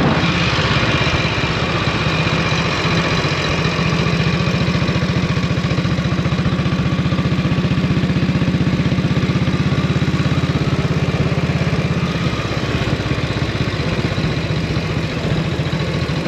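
A 1932 Norton 16H vintage motorcycle riding through a village: a steady, loud single-cylinder engine drone that holds constant throughout, heard close up with no talk.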